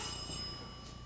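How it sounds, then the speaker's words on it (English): A telephone ringing somewhere in a house at night, a faint, steady electronic bell tone carrying over quiet room noise without any talk. "It's been ringing all night."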